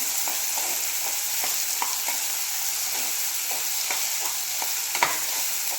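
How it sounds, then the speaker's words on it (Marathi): Tomatoes and onion frying in a pan over the flame, with a steady close sizzle and light, repeated spatula taps and scrapes throughout, no voices. "इथे टोमॅटो हे मी छान असा दोन ते तीन मिनिटासाठी परतवून घेणार आहे"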